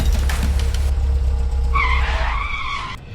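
A car skids to a stop with a loud, rising tire squeal over a heavy engine rumble, the screech lasting about a second before cutting off.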